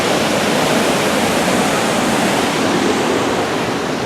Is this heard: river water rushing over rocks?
yes